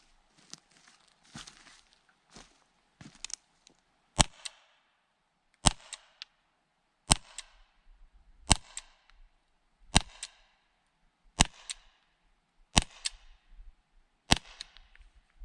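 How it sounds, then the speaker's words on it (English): Walther PPQ M2 and Umarex T4E less-lethal guns firing rounds into squash: a few faint crinkles, then eight sharp, loud cracks spaced roughly evenly apart, each standing alone with quiet gaps between. "why is this guy shooting squash"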